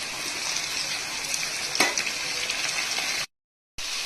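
Shrimp dropped into a hot frying pan with onion, garlic and chili paste, giving a steady broadband sizzle with a brief splash partway through, close up, then a short cut to silence before the frying resumes.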